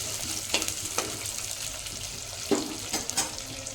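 Chopped onion fries in a pan for capsicum bath, a soft continuous sizzle punctuated by a few sharp clinks and scrapes of stirring, fairly close and quiet.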